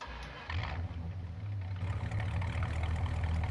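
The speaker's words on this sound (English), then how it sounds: "So I'll go ahead and fire it up and you guys can listen to it." NMC Scarok truck in Farming Simulator 2019 starting up, a brief cranking then a low, steady engine idle rumbling close by, fairly quiet and even.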